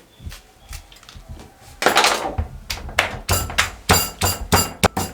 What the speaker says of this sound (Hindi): 4 अदद सब्ज मिर्चें इस तरीके से काट के यहाँ पे कुंडी में डाल देंगे और इनको हम कूट लेंगे